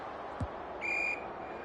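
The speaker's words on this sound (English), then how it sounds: "We've got a whistle. Umpire's ball." An umpire's whistle blows once at an Australian rules football match in the VFL, Sandringham Zebras against Geelong Cats, a short bright blast over steady crowd murmur, preceded by a soft thud.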